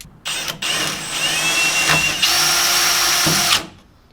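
A power drill bores rivet holes through a fiberglass fender on a Ford Ranger prerunner, whining loud and close in two long steady bursts with a brief stop between them, the pitch dipping as the bit bites.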